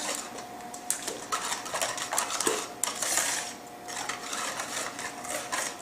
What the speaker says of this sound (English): We'll just whisk this all together.